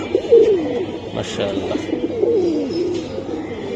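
Two pigeons coo in a pair of rolling, repeated calls close up, with a voice briefly speaking over them.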